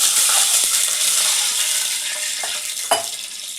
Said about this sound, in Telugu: ఇలా ఇప్పుడు మనం నెయ్యి కూడా ఉంది కదా, ఇలా కొంచెం వాటర్ పోసుకుందాం